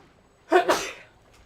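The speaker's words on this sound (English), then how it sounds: "I'm gonna sneeze again." A single close sneeze bursts out sharply and tails off with a breathy fade, with nothing else but faint room quiet around it.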